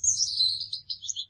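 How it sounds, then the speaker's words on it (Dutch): Australian Gouldian finches in a breeder's aviary give soft, high, thin chirps in a quick continuous run, faint and close, with a low hum beneath. "Ik kweek Australische prachtvinken, goldamandien, een prachtig vogeltje, een stil vogeltje, geen grote lawaaimaker, zingt ook niet, het chilpt al jan maar een beetje"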